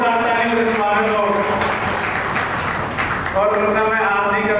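Applause greets the comedian Kalicharan as he comes on stage at an Aam Aadmi Party workers' gathering in Nawalgarh, swelling in the middle and mixed with a loud voice and tonal sound throughout.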